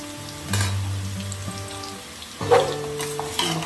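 Chicken keema balls frying in hot oil, a continuous bright sizzle with crackling bursts and a few louder spits and stirring clatters near the pan.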